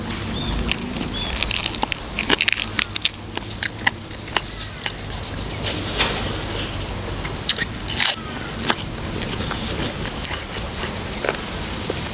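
Close, crisp crunching bites into spicy Thai chicken-feet salad, the cartilage cracking in repeated sharp snaps, alongside wet chewing and slurping sounds, with no talking.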